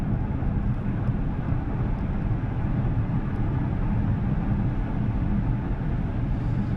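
Kia EV6 GT electric car accelerating to 80 mph on a highway, heard as a steady, loud low rumble of road and wind noise inside the cabin, continuous with no voices.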